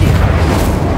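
Incendio fire spell bursting in Hogwarts Legacy: a single loud, close, deep whooshing boom filling the whole second with no voices over it.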